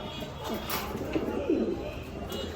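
A red Lahori pigeon, a young bird, coos in soft low repeated phrases close by, with faint background noise and a few light rustles.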